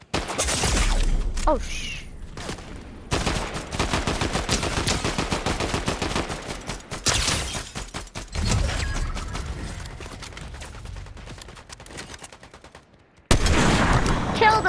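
Gunfire in the video game Fortnite comes as repeated loud bursts of automatic shots and single cracks, broken by short pauses, with a brief spoken exclamation.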